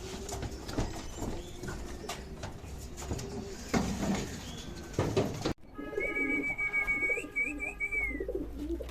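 Pigeons coo softly and repeatedly nearby, with rustling and scattered background noise, then a clearer rolling coo near the end.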